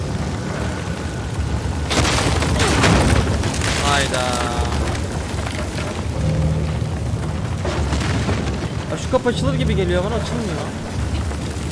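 A house explodes in The Last of Us Part II, a video game, with a loud booming blast and rumbling debris. Game voices talk over the destruction, and the rumble continues after the blast.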